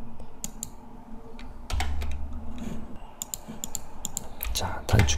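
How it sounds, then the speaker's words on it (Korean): Keyboard shortcut keys pressed on a computer: scattered sharp clicks and taps, some in quick clusters, fairly close and moderately loud, with a low hum and soft background noise. "여기에서 제가 이렇게 단축키를 누르면"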